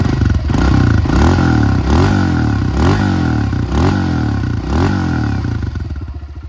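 A 2022 Honda CRF250F dirt bike engine revs repeatedly up close, several sharp throttle blips rising and falling over a loud, rough idle before it settles back down.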